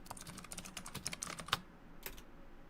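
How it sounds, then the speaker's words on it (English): Fast, hard typing on a computer keyboard, a dense run of sharp key clicks with a short pause and a final burst, fairly close and on its own. "He's typing so fast, so hard."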